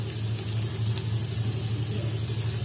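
Onions sautéing in a pan with a little salt while a squid dish is cooked, giving a steady, even sizzle and hiss that carries on without a break and with no talking.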